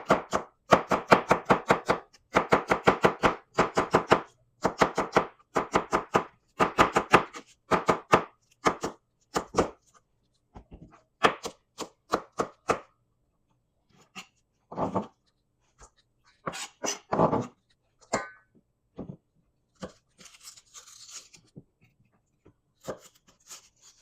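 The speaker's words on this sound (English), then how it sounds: "Just gonna slice these down the long ways a little bit" A knife slicing lengthwise through ingredients for creamy chicken and rice soup on a cutting board, a long run of quick, crisp, evenly spaced chops up close, later thinning into slower, scattered cuts with gaps of silence.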